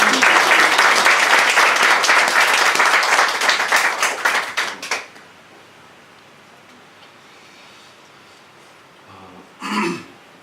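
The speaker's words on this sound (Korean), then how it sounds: "이 자매님 계시는데 박수 한번 할게요" Church congregation giving a burst of applause, loud dense clapping for about five seconds that thins out and stops, followed by near silence and a brief cough or throat clearing.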